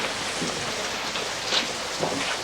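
Steady rain falls over a continuous hiss, with scattered droplet patters and no voices, outdoors in a 1994 television drama scene.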